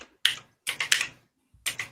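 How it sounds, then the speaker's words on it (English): A few quick bursts of keystrokes on a computer keyboard, close and clear, separated by short silent gaps, with no talking. "typing."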